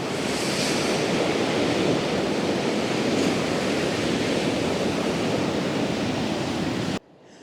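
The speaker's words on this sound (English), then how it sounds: "Just listen to the waves." Ocean waves roll in a loud, continuous rushing wash of surf that holds steady for several seconds before cutting off abruptly.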